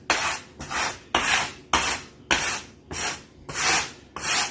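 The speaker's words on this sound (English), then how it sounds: "Then you just take your biscuit cutter you got and you just scratch all the flour off the counter." A biscuit cutter scrapes flour across a kitchen counter in eight steady, rhythmic rasping strokes, each stroke close, dry and gritty, with short gaps between them.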